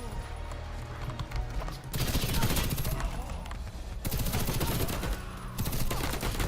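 Sustained bursts of F2000 rifle fire in the Warface shooter, rapid loud automatic shots in long stretches broken by short pauses, close and dense.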